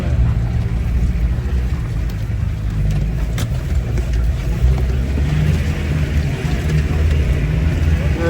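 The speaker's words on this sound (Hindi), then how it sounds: "गाड़ी निकल रहा है।" A jeep engine drones steadily and loudly as the vehicle is pulled out of mud on a snowy mountain road, with a continuous rumbling roar and no clear pauses.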